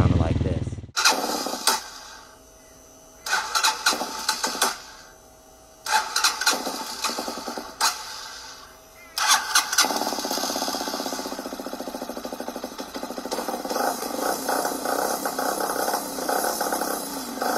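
A Hawk 250cc motorcycle engine runs roughly after valve adjustment, cranking in several loud bursts with pauses, then settling into a steady, rattly, uneven idle heard up close.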